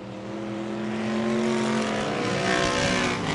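A vintage feature race car engine, the 9-star car, roars loud and close. The revs climb steadily and then hold a sustained high drone as it passes.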